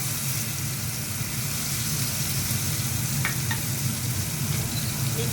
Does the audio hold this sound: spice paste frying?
yes